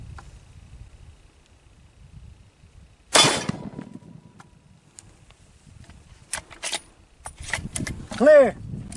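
A gunshot fired at an AR500 steel armor plate: one loud, sharp crack, then scattered smaller clicks and a brief rising and falling whine near the end.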